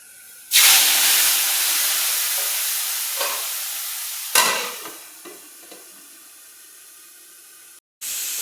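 Ground spice paste drops into hot oil already holding bay leaf, dried red chili and five-spice seeds. It bursts into a loud, hissing sizzle that slowly fades, then flares again in a second sharp burst partway through.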